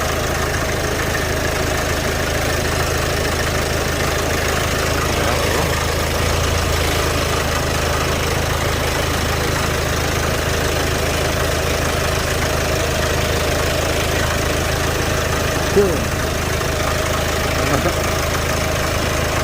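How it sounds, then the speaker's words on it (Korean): A Land Rover Discovery Sport HSE with the 2.0 diesel engine idles after a glow plug swap in cylinder 1, a loud, steady, low rumbling drone that holds unchanged with no breaks. "시동 걸어서 다시 스캔을 한번 해봐야 돼"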